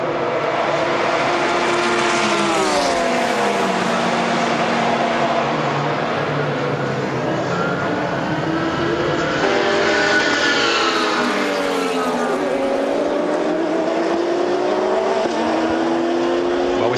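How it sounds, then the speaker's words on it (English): The Hankook Farnbacher Ferrari racing at the 2010 Le Mans 24 Hours, a loud engine note climbing and falling through gear changes with other race cars passing throughout, continuous and close. "looking at the moment at the Hankook Farnbacher car, this is the Ferrari in second place"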